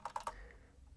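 Three quick keystrokes on a computer keyboard, typed while entering fastboot flash commands to restore a Nexus 6 to stock, followed by a faint hum of the room.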